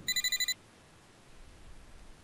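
A telephone rings in a visual novel game, six rapid electronic trills in under a second, then it falls quiet apart from a faint low background hum.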